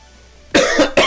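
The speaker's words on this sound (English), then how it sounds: "Sorry if I cough a lot." Two harsh coughs from someone who is coming down with a cold, close to the microphone, the first longer and the second a short burst right after, following a quiet lead-in.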